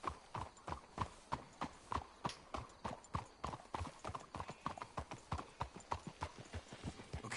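Horse hooves clip-clop in a steady, brisk rhythm across Red Dead Redemption 2, a continuous string of sharp close impacts with no voices over them.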